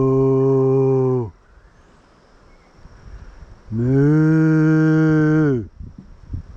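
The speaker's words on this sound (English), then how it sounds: "You get greeted by a pile of mooers." Cows at the end of Conjola Creek give two loud, long, close moos, one short and one longer, separated by a quiet gap with faint rustling.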